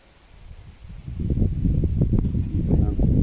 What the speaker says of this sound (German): jetzt kommt noch ein bisschen stärkerer Wind auf